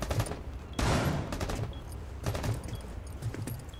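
Shotgun blasts go off in the video game Rainbow Six Siege, a handful of sharp, loud reports in quick succession with a broad burst near the start and more shots spaced through the rest.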